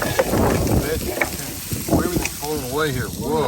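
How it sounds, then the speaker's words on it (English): Strong wind gusts roar and buffet the microphone at an exposed campsite in a remote national monument, a steady rushing noise running the whole time while someone talks and exclaims over it. "The wind is really whipping."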